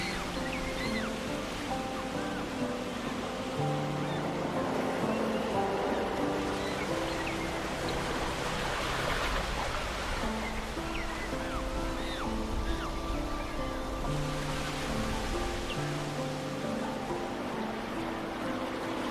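Ocean waves washing onto the shore at Boulders penguin reserve in South Africa, a steady continuous surf wash with soft broadband rush, no voices, holding an even level throughout.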